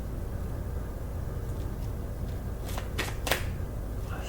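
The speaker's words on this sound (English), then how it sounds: "Wait a minute. I shuffled too fast." A deck of tarot cards is shuffled by hand, steady soft riffling with a few sharp snapping bursts near the end, close and alone.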